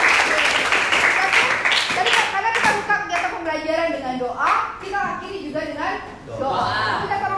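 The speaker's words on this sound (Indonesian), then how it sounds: "Tepuk tangan untuk kalian." Children clap together in a classroom, a burst of quick, crisp claps fading into lively kids' voices and teacher talk close by.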